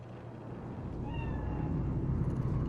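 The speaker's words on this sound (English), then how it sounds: "Do you see it? A cat? A cat." A single short cat meow in Cyberpunk 2077's Night City streets, faint and brief over a dense, rumbling city ambience.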